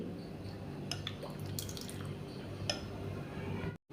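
Water poured from a bowl into sorghum flour batter gives a steady close wet trickle with a few small splashy drips, ending in a brief cut to silence.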